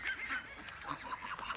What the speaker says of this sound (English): The geese I let out to patrol the property because they're already homed.